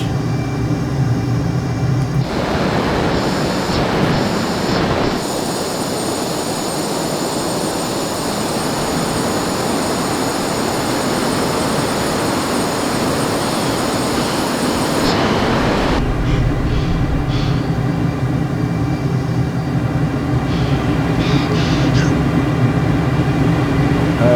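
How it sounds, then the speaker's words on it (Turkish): Eurofighter jet flying in Microsoft Flight Simulator, a loud continuous engine roar and rushing wind that holds steady throughout with tonal whine shifts partway through, no talking over it. "Uçak Jet Fighter. Jet Eurofighter."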